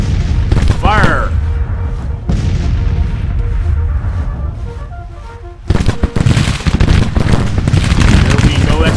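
Artillery cannons booming in a Civil War battle in Grand Tactician: The Civil War, dense loud blasts over a continuous roar of gunfire and battle noise, with a voice briefly audible early on.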